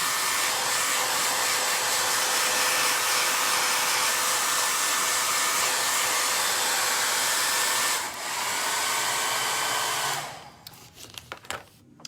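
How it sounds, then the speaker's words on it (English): A hair dryer blows with a loud, steady whoosh for about ten seconds while drying the edge of a shagreen furniture finish, briefly dipping, then cuts off, followed by a few light clicks. "I'm gonna hit this with a hairdryer for just a second."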